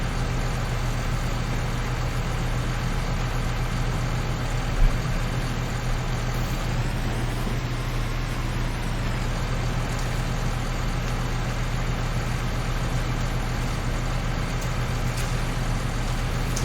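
A tractor idles in Farming Simulator 19 while it is refuelled at a fuel pump, a steady low engine hum running unchanged throughout with a single faint click partway through.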